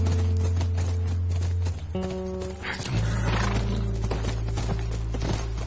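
A horse whinnies in The Last of Us Remastered over a steady low rumble and a layered game soundtrack, with hoof clatter and tonal effects shifting partway through.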